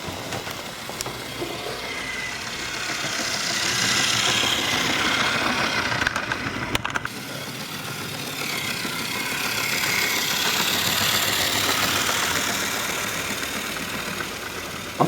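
A Hornby diesel model locomotive hauling coaches rolls past on track, a steady mechanical whir and rumble that swells as it nears, fades, then builds again, running alone without talk.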